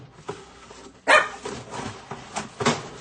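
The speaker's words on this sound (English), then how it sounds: "I don't want my dogs barking, but she's a barking now too." A dog barks several times in a short irregular burst, a sharp close yelp followed by smaller barks, heard indoors where tortillas are being made.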